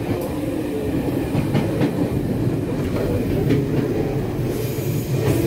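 A PP Tze-Chiang express train, service 272 from Miaoli via the Mountain Line to Hualien, rumbles steadily along the rails with continuous clatter and faint wheel squeal, loud and close, no voices.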